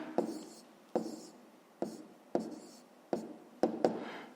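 A pen or pencil writes numbers on paper for a fifth-grade maths exercise, with about seven short, close scratchy strokes separated by brief pauses.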